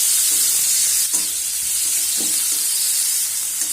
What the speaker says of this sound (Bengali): পেঁয়াজ আর টমেটোটা আমি এর মধ্যে নাড়াচাড়া করে ভেজে নেব।